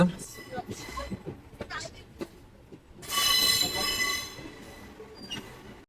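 Kamban Express passenger train arriving at Nagapattinam station, with wheel and rail noise, a loud burst of screeching brake squeal midway, and people talking nearby throughout.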